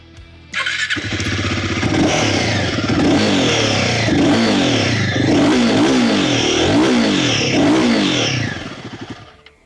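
A Royal Enfield Guerrilla 450 motorcycle fires up and settles into a throaty idle before a series of loud revs swell and drop, the exhaust note close and dominant.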